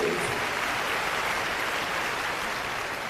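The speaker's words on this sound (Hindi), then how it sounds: "तो एक बार जोरदार तालियां हो जाए आज के इस मंच के लिए।" Applause from an audience at a Delhi government World Environment Day conference, a fairly faint, even wash of distant clapping that stays steady with no speech over it.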